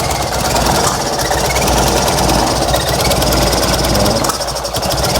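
A Fiat 126p engine running on 92% denatured alcohol instead of petrol, held at throttle to keep it from choking; a loud, continuous rough mechanical clatter fills the whole stretch with no pause.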